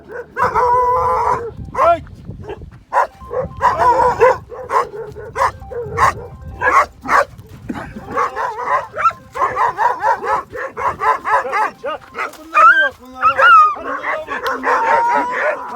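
A dog barks and yips repeatedly up close, with some whimpering and howl-like cries, while people talk over it.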